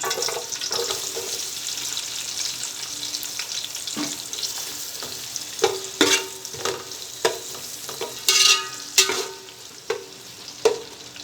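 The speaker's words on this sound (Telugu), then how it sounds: "ఆయిల్ వేడైన తర్వాత ఉల్లిపాయ ముక్కలు వేసుకోవాలి" Sliced onions fry in hot oil and ghee with a loud, close sizzle, made for a biryani with gongura and chicken. Sharp scrapes of the stirring spoon grow more frequent toward the end, and no voices are heard.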